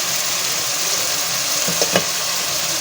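Red chilli powder, turmeric and salt frying in a pan for bhindi gosht give a steady loud sizzle, with a couple of brief scraping stirs near the end.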